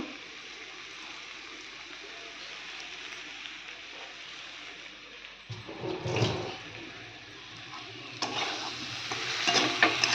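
Spices stir-fried in a pan, a steady close sizzle with scraping and stirring that swells louder in bursts midway and near the end.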